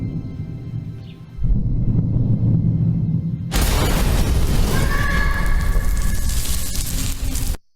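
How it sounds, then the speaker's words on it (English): An air cannon fires outside a window during a film shoot, with a heavy low rumble that swells into a loud, broad blast of noise, sustained for several seconds before stopping suddenly. "we had an air cannon outside the window."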